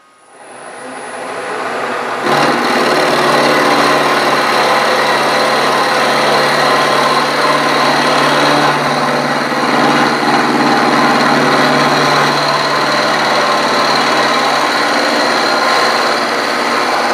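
A milling machine runs with the table power feed trip engaged: a loud, steady high-pitched motor whine and mechanical hum that rises after the first two seconds and holds constant throughout, close and alone.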